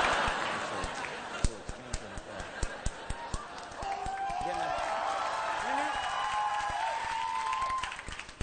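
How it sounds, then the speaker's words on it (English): Late-night comedy monologue audience in Toronto breaking into applause and cheering, a dense steady wash of clapping with whoops, following a few sharp claps, loud and fairly close. "Just don't cheer it like that."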